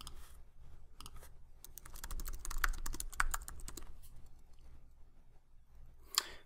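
Fast, close tapping on a computer keyboard runs in an uneven rhythm of quiet clicks, ending with a sharper keystroke burst.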